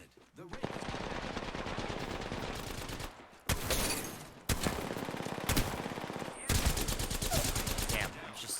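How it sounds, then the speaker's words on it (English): Mastiff shotgun blasts in a video game, a run of loud, close, rapid booming shots in several bursts separated by brief gaps. "I missed so many of my Mastiff shots"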